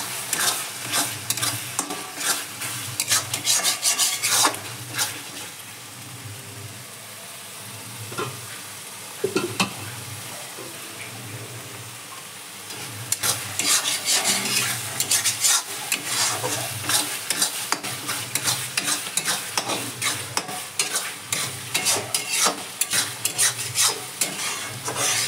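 Chicken fries with softened tomatoes in a pan and is stirred over and over, with a constant sizzle and repeated scraping strokes. The stirring is busy, eases off for a short while, then picks up again.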